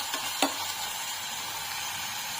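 A spiced mushroom fry mixture with chilli powder being stirred in a hot pan, a steady close sizzle with a brief scrape of the spoon near the start.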